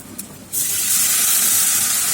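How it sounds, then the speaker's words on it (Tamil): Tamarind water poured into a hot pan bursts into a loud, sustained sizzle and hiss of steam after a brief quieter moment, continuing steadily to the end with no talking. "இப்போ இதில் புளி தண்ணியை நம்ம சேர்த்து விட்டுடலாம்"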